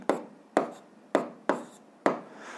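Handwritten notation scratched on a board during an 8th-grade physics lesson: five sharp, evenly spaced strokes, each a crisp onset with a short decaying scrape, close and fairly loud, with no talking.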